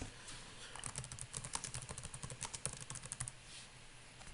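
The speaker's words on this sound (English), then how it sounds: "You type in the text and you click the button" Fingers type text on a computer keyboard, a quiet, steady patter of rapid key clicks that continues for a few seconds.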